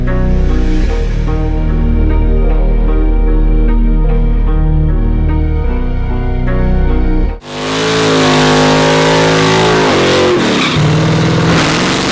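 A drag race car making a test pass while testing ahead of a grudge race in Alabama, its engine roaring loud and close throughout, with an abrupt change in tone partway through and no talking.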